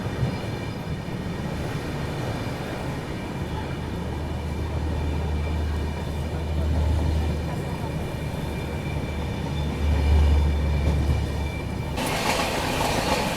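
The Guwahati to New Delhi Rajdhani Express rumbles steadily at a station platform at sunset, a loud continuous low train drone with a brighter burst of noise near the end.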